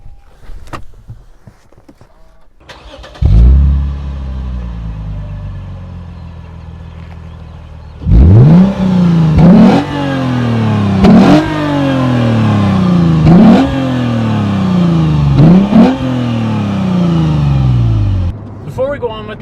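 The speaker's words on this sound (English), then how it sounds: "before you hear what this exhaust sounds like I said, it's a TRD exhaust, which comes from Toyota" A Lexus with a Toyota TRD exhaust and four tips starts with a sharp bark, idles, then revs in a series of loud, close, rising blips that fall back between them.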